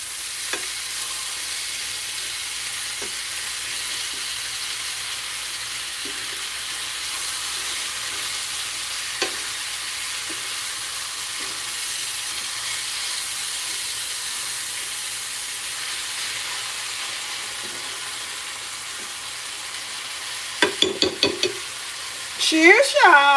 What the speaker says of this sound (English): Making steak egg rolls.